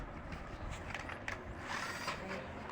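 An electric screwdriver switched on after tightening, running with a steady whirring, ratcheting mechanical drone held at an even level throughout, close by with no talk.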